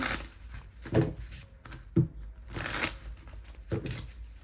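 Tarot cards being shuffled in a few quick riffling bursts, with soft taps and thumps between them, close by and fairly quiet.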